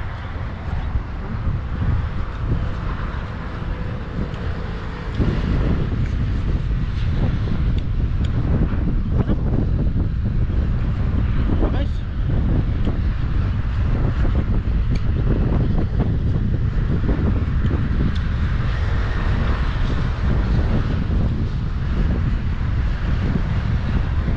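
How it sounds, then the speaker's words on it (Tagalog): Strong wind buffets the microphone steadily for a long stretch, a constant roaring rumble that grows heavier after the first few seconds. "Sarap sa pakiramdam yung hangin"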